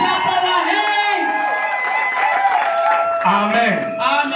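A wedding crowd applauds and cheers for the newly presented couple, with whoops, excited voices and chatter layered over scattered clapping at close range.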